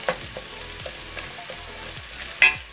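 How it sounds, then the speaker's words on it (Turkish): Ingredients for a Turkish dried bean stew sauté in a pan. A soft, steady sizzle is broken by regular stirring scrapes, and a sharper clatter sounds near the end. "Bu şekilde biraz da kavurduktan sonra"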